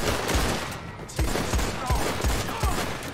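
Rapid revolver gunfire in Red Dead Online, a loud burst of shots followed by several evenly spaced single reports over a constant background of game ambience.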